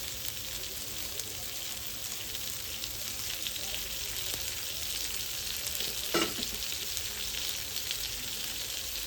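Fish sizzles steadily in hot oil in a pan, a continuous close crackling fry with a brief scrape or stir midway and no talk.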